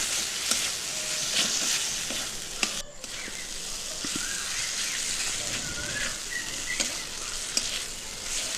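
Ginger and garlic paste masala fries in a pan for a pointed gourd and prawn curry, giving a continuous close sizzle broken by light clicks and scrapes of stirring.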